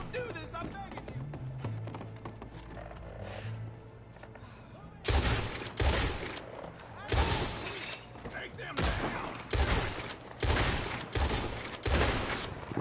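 Repeated bursts of loud gunfire in Red Dead Redemption 2 Online crack out in rapid volleys, several close shots and fusillades one after another, with a voice talking in between.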